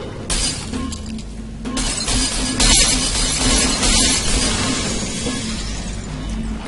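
Glass shattering in the video game Portal 2, a loud crash followed by a long spill of tinkling, clattering shards and debris that keeps rattling for several seconds.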